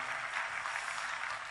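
Audience applause at a live music show honoring an accordion player, a dense, even wash of clapping held steady for a brief moment.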